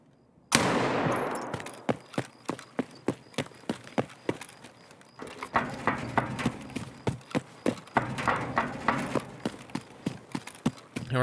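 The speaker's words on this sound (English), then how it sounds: "I kind of want to move quickly away from my own gunshot." Gunfire in the video game Escape From Tarkov during a raid: a sudden loud report followed by a long series of sharp, evenly spaced cracking shots, close and prominent, with no talk.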